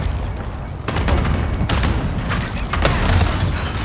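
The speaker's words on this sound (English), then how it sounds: "Enemy cluster strike incoming." Cluster strike explosions in Call of Duty Modern Warfare, a dense continuous rumble of booms with several sharper blasts overlapping, loud and close throughout.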